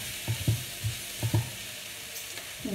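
Nasi goreng with petai frying in a pan, a steady soft sizzle underlying several dull knocks of a spatula stirring against the pan, close and moderately quiet, with no talking.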